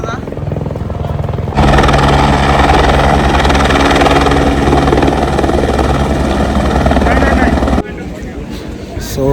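A helicopter arrives at the Kedarnath helipad: a loud, throbbing rotor and engine roar swells in suddenly, holds strongly for several seconds, then drops back to a quieter background rumble.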